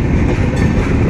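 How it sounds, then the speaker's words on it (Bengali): A long train near Gazipur, Bangladesh rumbles past on the rails, loud and close, with a continuous roar and faint rhythmic clatter over a brief moment. "এই লম্বা ট্রেনটি"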